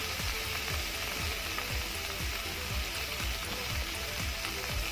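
Chinese celery being stir-fried with light soy sauce just added: a faint, steady hissing sizzle with regular rhythmic stirring strokes throughout, and no voices.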